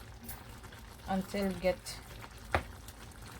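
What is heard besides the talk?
pepper steak sauce boiling in pot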